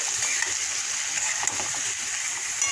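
Spice paste stirred and fried in a hot pan gives a steady, dense sizzling hiss with wet splattering, continuous and fairly loud throughout, with no voices.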